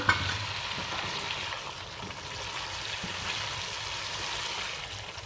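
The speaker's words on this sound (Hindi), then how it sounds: "ये दही को हम फ्राई करेंगे, खुशक करेंगे सारा इसको।" Yogurt frying in a pan for chicken shorba, a steady close hiss and sizzle that runs on without pause.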